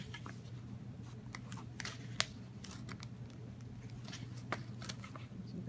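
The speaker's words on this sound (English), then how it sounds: "I'm using scissors, but a hole punch would definitely work a little bit easier" Scissors cut holes in a paper thermometer with a run of soft, irregular snips and crunches. A low steady hum sits underneath, and there is no talk.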